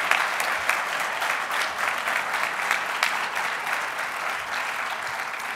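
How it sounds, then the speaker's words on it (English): Sustained audience applause at an alumni awards ceremony, a broad even wash of clapping from a large crowd lasting several seconds without a break. "How about another round of applause for all of the recipients?"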